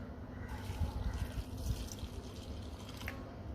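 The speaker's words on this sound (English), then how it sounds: "Now, let's pour in some water." Water poured into a container for a classroom science experiment with sequins, a steady trickling and splashing flow heard alone and fairly faint.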